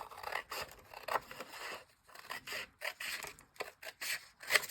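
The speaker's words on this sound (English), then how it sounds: "And now I'm going to cut it." Scissors cut through folded paper for a junk journal, giving a series of quiet, close crisp snips and rasping slices in an uneven rhythm.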